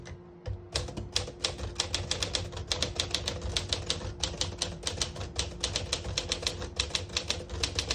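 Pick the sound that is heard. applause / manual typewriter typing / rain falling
manual typewriter typing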